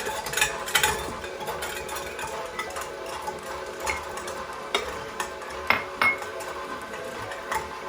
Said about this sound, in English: Next step, beat in the egg whites.